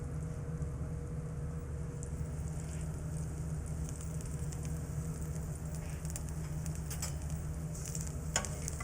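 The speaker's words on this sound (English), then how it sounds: "We're stirring around the rosemary." Garlic and fresh rosemary sprigs sizzle quietly in a pan as they are stirred, a soft, steady frying hiss with faint scraping and ticking.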